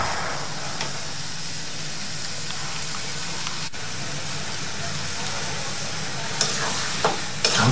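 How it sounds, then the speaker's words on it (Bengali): Eggplant and tomato mash with ghee cooking in a pan makes a constant close sizzle and hiss, with stirring scrapes that grow more noticeable near the end. "এখন এটা ভালো মতো নেড়ে চেড়ে কিছুক্ষণ একটু জাল দিতে হবে।"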